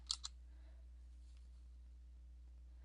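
A pair of quick, crisp computer mouse clicks sounds close at the very start, followed by near-silence with only a faint low hum and a soft tap at the end.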